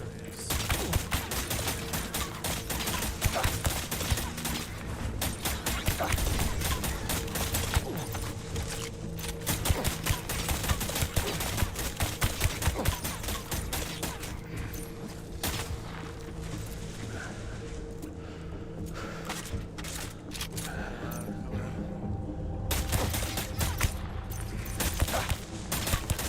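Enemy gunfire in Death Stranding on very hard difficulty: sustained rapid bursts of shots crackle steadily throughout, dense and continuous over a constant low rumble, with brief lulls and no clear talk.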